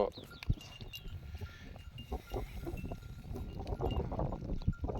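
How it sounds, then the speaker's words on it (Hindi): Sheep and goats on a farm with green grass bleat now and then amid busy outdoor ambience, with scattered livestock sounds and faint bell-like clinks. "ये भेड़ बकरी है।"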